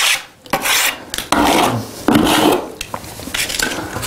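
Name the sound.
trowel scraping silicone render on a wall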